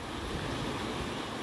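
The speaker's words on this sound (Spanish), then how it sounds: "La fuerte corriente que lleva este río." A strong river current rushing beneath a bridge at Amelco, Veracruz, a steady, loud broadband roar with no pauses, mixed with some wind noise on the microphone.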